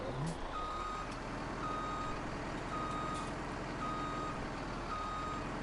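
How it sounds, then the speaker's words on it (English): Evenly spaced reversing beeps from a truck in a farming simulator game, a rhythmic series of beeps over a steady diesel engine rumble, no voices. "And then I'll park my buddy's truck in my driveway."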